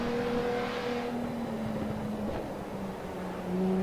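A BMW M1 racing car in Raceroom at Silverstone Historic, its engine droning and revving steadily under load with a sustained tone that shifts slightly, alone without talk.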